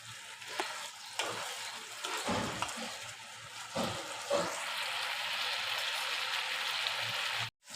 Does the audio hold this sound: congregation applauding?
no